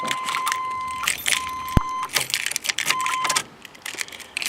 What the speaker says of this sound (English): Turn the key to the on position.